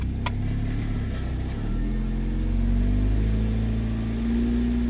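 A 2007 Pontiac G6's 2.4-litre Ecotec engine idles nearby with a steady low hum, the pitch shifting slightly partway through as load comes on, then holding even and moderately loud.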